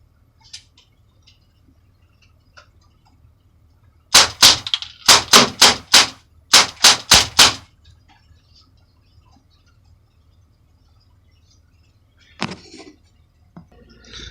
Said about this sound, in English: now I'm going to let off 10 shots rapid fire with the BB gun